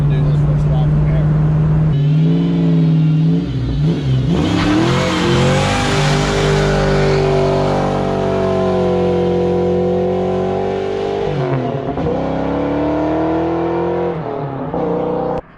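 A car on its first drive revs and accelerates with a strong, close engine roar that rises and falls in pitch through shifts, loud throughout.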